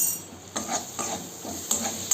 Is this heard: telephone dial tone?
no